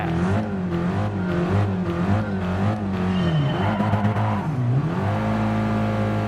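Abarth 500 small Italian compact car in Gran Turismo Sport, its engine revving steadily at a race start with rising and falling pitch, loud and continuous with no talking.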